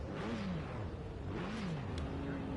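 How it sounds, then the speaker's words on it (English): A race car engine heading out on track at Le Mans practice, a distant rising and falling engine whine as it accelerates through gears, faint and steady. "Oh, I hear a car going out."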